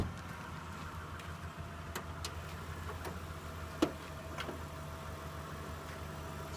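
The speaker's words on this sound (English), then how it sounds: "I'll start her up so you can actually hear her running as well." A 2002 Mitsubishi Pajero Exceed engine idling steadily with the hood open, a smooth low hum with faint ticking and a single sharp tap partway through, no voices.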